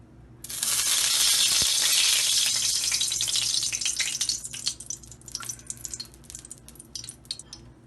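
Oil sizzling loudly in a pan while making eggplant bharta, a steady bright crackling hiss that starts abruptly and gradually settles into sparser popping, with no talking.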